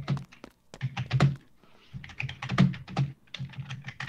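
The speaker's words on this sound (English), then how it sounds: "she got a loud keyboard, that's why." Loud computer keyboard typing heard up close, with rapid bursts of clacking keystrokes broken by brief pauses and heavy thunks from harder key presses.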